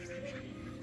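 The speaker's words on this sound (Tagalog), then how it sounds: "meron pa kaming itik" A duck quacks faintly and briefly at a rural countryside home, a short low call in a quiet setting.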